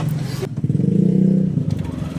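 A Yamaha NMAX 155 scooter engine cranks and catches after a short clatter, then settles into a loud, close low idle burble that swells briefly and steadies, with no talking over it.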